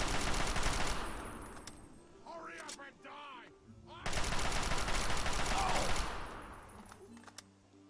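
Rapid bursts of automatic gunfire rattle in the Fallout 3 video game, two long loud volleys separated by a brief lull, with someone talking over the shooting.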